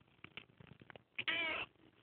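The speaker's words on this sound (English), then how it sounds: "Meow if your name is Tinky." A pet cat gives one clear, drawn-out meow after a few faint soft sounds, close and fairly quiet in an indoor room.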